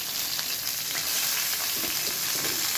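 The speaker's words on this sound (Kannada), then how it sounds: "ಹಾಕಿಟ್ಟು ಚೆನ್ನಾಗಿ ರೋಸ್ಟ್ ಮಾಡೋಣ." Onions, chillies and curry leaves sizzle and fry steadily in a hot pan for a sorekai (bottle gourd) sambar, a dense continuous crackle with a few soft stirring scrapes, close and loud with no voices.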